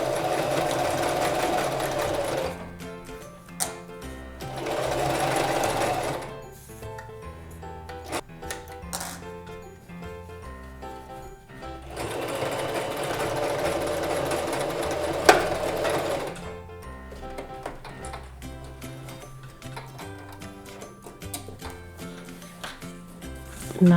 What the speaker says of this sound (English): And now I'm just going to sew the envelope part of this.